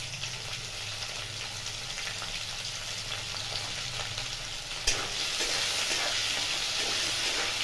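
Carrots, beans and green peas fry with salt in a pan, giving an even, close sizzle that jumps louder and brighter about two-thirds through and stays strong afterward.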